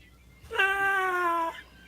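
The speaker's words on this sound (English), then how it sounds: "Notice the meows going on in the background, Scott?" A cat meows once in the background of a room, a single drawn-out, fairly loud cry lasting about a second, with no talk over it.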